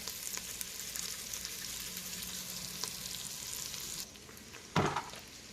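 Vegetables sauté in a pan with a soft, steady sizzle that drops slightly near the end, followed by one brief clatter of a utensil, quiet and without speech.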